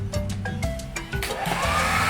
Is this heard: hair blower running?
yes